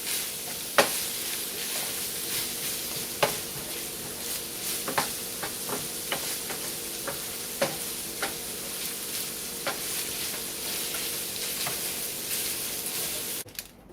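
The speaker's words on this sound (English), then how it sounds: "And stir all of that in." Taco filling stirred in a frying pan over a burner, with soft continuous sizzling and repeated scraping clicks of a utensil against the pan, steady and close, no talking.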